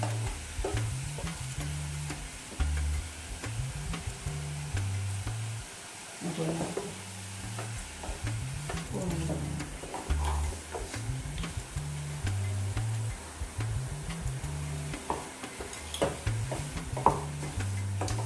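Pineapple pudding mixture with sugar cooking in a pan, stirred in repeated scraping strokes with a soft sizzle beneath, close and moderately loud, with a faint voice now and then.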